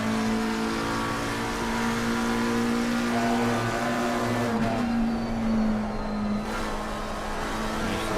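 A McLaren race car in Assetto Corsa Competizione at Silverstone holds a steady, loud engine drone that climbs in pitch through the gears, with a brief dip and shift change partway through and no talk over it.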